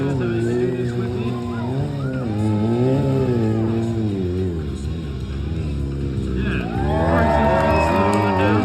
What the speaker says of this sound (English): I'm going to start off doing some circle wheelies